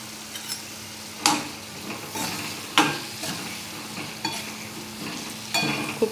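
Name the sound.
ridge gourd being sautéed in a pan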